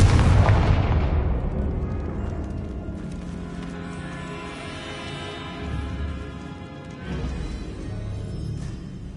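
A fiery Confringo blasting spell explodes in the video game Hogwarts Legacy with a loud, close boom. The blast rolls into a long, rumbling decay of crackling debris that fades across several seconds, with no talking.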